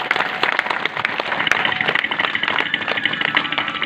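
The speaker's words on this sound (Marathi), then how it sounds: "टाळी वाजवा एकदा." An audience claps in a dense, sustained round of applause, many hands close together at a religious recitation and play, steady and lively throughout with no voices standing out.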